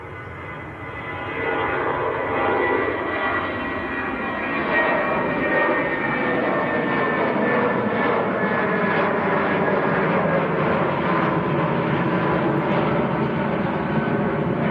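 British Airways airliner at Manchester Airport, its jet engines roaring steadily and loudly across the whole stretch, a broad continuous rumble and whine that swells slightly as the plane passes.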